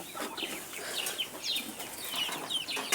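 Chickens on a small poultry farm, with soft clucks, chirps and brief wing flutters scattered through a steady barn ambience, fairly close but quiet, with no talk.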